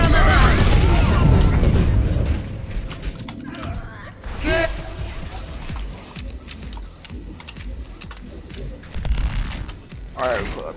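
Rocket explosions from Pharah's barrage in the video game Overwatch, played on the Blizzard World map, come as a dense run of booms and mechanical clatter with players talking over the match.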